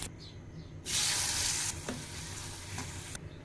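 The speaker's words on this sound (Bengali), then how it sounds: "ডিমটা ভেজে নিচ্ছি" An egg frying in a pan gives a loud, steady sizzle that swells after the first second, with a few stirring scrapes, then eases back to a softer background crackle.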